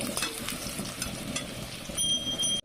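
Potatoes coated with a little turmeric fry in oil in a wok, giving a steady close sizzle with faint stirring clatter and no voices.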